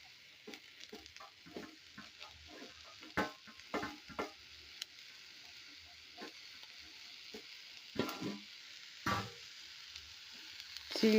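Chopped spinach dropped into a hot pan with browned coconut for a Kerala cheera thoran, giving soft intermittent sizzling with scattered stirring clicks and scrapes, moderately quiet throughout.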